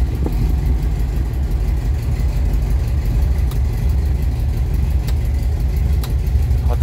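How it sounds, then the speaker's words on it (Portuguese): A Volkswagen Fusca 1600 oval-window Beetle idles steadily up close, its low engine rumble continuous throughout with rain falling and no talking. "Rotação nem cai, motor 1600."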